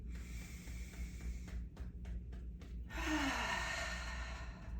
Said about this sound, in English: Inhale through your nose, exhale out mouth.